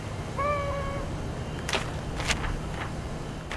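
A cat in the video game Little Inferno lets out a short, thin meow with a wavering pitch, followed by several crackling snaps over a steady hissing fire background.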